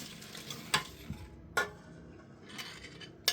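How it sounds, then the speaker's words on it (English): Dark chocolate melts into a hot sugar mixture as a utensil stirs it, giving quiet scraping strokes with a few sharp clinks against the pan. "Add 200 grams of dark chocolate and mix until it melts."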